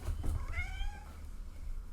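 A single cat meow, a rising then falling drawn-out call, close by over a low background hum, with no talking.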